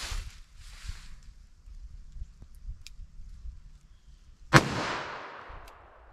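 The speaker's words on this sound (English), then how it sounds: "I'm going to run our 38 Special through our 4-inch barrel." A single .38 Special +P round fired from a 4-inch barrel: one loud, sharp crack with a long, ringing reverberant tail, breaking a quiet stretch of low background rumble.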